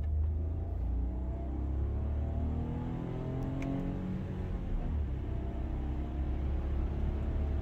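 A car engine accelerates hard at full throttle with paddle-shifted gear changes, a steady loud rumble with harmonics sweeping upward and resetting around each shift, heard from inside the cabin.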